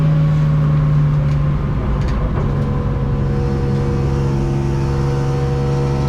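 A BMW race car engine drones steadily from inside the cabin during qualifying at Hampton Downs, a loud continuous hum holding pitch with only slight rises, no voices over it.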